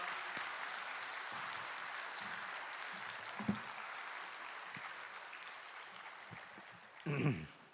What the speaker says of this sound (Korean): 귀한 사역 감당하는 우리 최하준 선교사님 나오실 때 환영의 큰 박수 보내주십시다.